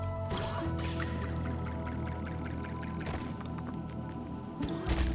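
Watery drips and soft squishing sounds repeat over a low, steady in-game drone as water is struck while digging in Dome Keeper.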